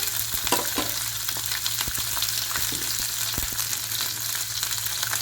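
Small onions and about fifteen garlic cloves fry in oil for a shallot chutney, giving a steady close sizzle with scattered crackles and light utensil clicks throughout, no voices.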